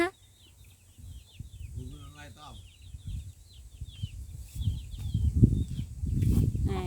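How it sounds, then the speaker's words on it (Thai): Several chickens cluck in quick, scattered bursts while gathering around a young animal at play in a farmyard, moderately close, with someone talking over them and rustling noise rising toward the end. "ไก่ไก่ก็มานะคะ"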